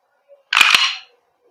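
A Umarex Glock 17 Gen 5 MOS gas blowback airsoft pistol by GHK has its slide racked, giving a close, sharp double mechanical clack with a short ringing tail, heard on its own.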